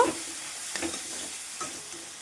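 Shrimp, tomato, onion and boiled potato are sautéed and stirred in a pan, giving a brief, steady sizzle broken by a few soft scraping stir strokes, close up and with no voices.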